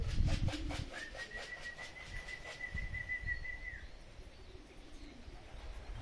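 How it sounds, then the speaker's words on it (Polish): Racing pigeons arrive over a loft in strong wind, giving soft coos and chirps, with a sustained thin whistling tone and a steady wash of wind noise beneath. "Są trzy gołębie."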